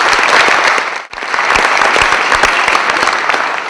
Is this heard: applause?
yes